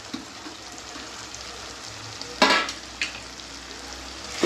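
Chillies sauté in a pan for pav bhaji, giving a soft frying hiss with a couple of sharper sizzle bursts when they are stirred.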